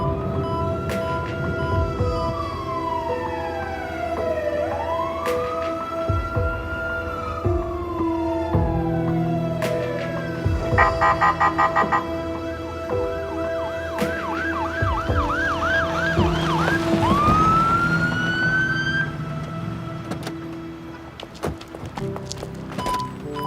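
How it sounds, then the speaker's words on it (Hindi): An ambulance siren wails loudly and close, cycling through long rising-and-falling sweeps and faster yelping bursts over a steady background hum, then fades away near the end. "बस हम लोग आ रहे हैं एम्बुलेंस में।"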